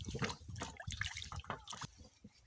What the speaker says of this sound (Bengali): প্রথমে আমি জল দিয়ে ভালোভাবে ধুয়ে